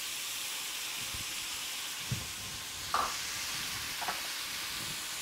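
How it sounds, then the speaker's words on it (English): Chopped onion sizzles faintly in hot oil with pork, a soft continuous frying hiss with a couple of brief clinks and scraping stirs, no voices. "And so we're going to add in our chopped onion."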